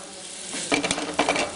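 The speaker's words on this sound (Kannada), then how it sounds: "ಇದನ್ನ ಚೆನ್ನಾಗಿ ಒಂದು 4-5 ನಿಮಿಷ ಹೀಗೆ ಫ್ರೈ ಮಾಡಿ. ಇದನ್ನ ನೀವು ಮಿಕ್ಸ್ ಮಾಡ್ತಾನೆ ಇರಬೇಕು" Jackfruit pieces fry and sizzle in a pan while being stirred, a steady close sizzle overlaid with scraping, clattering stir strokes that grow busier partway through.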